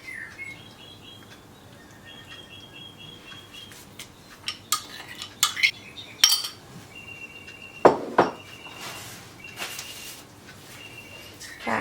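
Metal clinks and scrapes of a spoon stirring fesenjan, a chicken stew of walnuts and pomegranate paste, in a pot, coming in irregular bursts up close, with faint chirps in the background and no talking.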